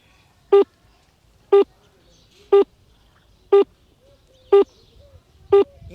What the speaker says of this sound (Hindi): ये मोबाइल से गोबर के अंदर दबे हुए मोबाइल के अंदर हम फोन लगा रहे हैं, तो फोन लग नहीं रहा है।